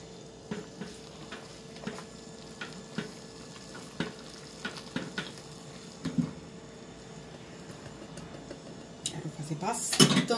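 Coxinha chicken dough being stirred in a pot, spoon or utensil scraping and knocking in an irregular rhythm of close clicks and taps over a low sizzling cooking background.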